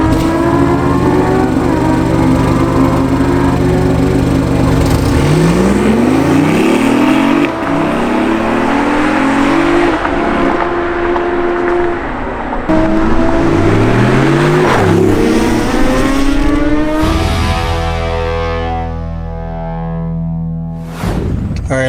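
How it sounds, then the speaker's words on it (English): A BMW i8 Roadster hybrid sports car starts up and drives off, loud and close, its engine note rising and falling in repeated revving sweeps through gear changes before easing off near the end. "I'm not even sure it's gonna make a sound when I turn the car on."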